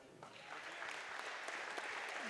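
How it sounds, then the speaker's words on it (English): Applause from the crowd at a boys' high school basketball game fills the gym, a steady wash of many hands clapping, heard at a distance and sustained throughout. "After they applaud Beckett there as he's finishing up his words"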